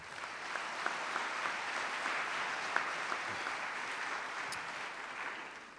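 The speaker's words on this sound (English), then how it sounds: "can we give them a round of applause once again?" A lecture audience gives the speakers a steady, dense round of applause, many hands clapping evenly at moderate volume with no talk over it.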